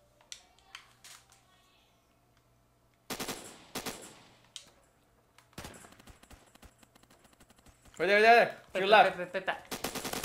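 Submachine gun bursts in the Roblox game Phantom Forces on Xbox One: short rapid strings of gunfire separated by pauses, with players talking over parts of it.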